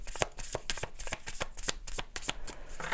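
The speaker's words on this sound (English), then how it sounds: "These cards, I don't know, they're just hard to shuffle." Tarot cards being shuffled by hand, a run of crisp riffling flicks and slaps in an uneven rhythm, close and fairly quiet.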